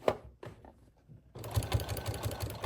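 Sewing machine stitching a large tote made from dish drying mats, a short burst of a few stitches after a brief pause, then a steady rapid run of close, regular needle thumps.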